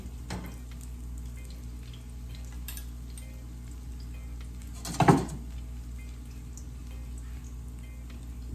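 Jamaican saltfish fritter dumplings fry in a pan with a steady, close sizzle throughout. A brief clatter from a utensil breaks in near the middle.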